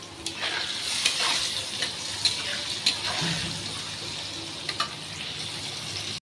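Soybean chunks fry in a hot pan for a vegetarian dish, a steady close sizzle broken by repeated scraping stir strokes throughout.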